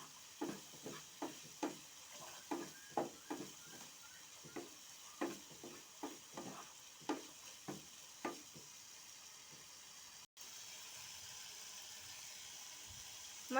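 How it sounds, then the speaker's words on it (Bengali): Spices sautéing in a pan, a faint, even sizzle under a quick series of spoon scrapes and taps that stop partway, leaving only the soft frying hiss. "মশলাগুলো ভালোভাবে কষিয়ে নিলাম।"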